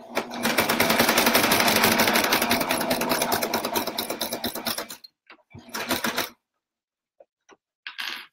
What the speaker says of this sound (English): and sew back over what you just did again and then go back